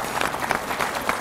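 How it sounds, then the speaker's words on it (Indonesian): Audience applause for a contestant named Ayu on an Indonesian television show, a short steady patter of clapping at moderate level with no one talking. "Tepuk tangan dong buat Ayu."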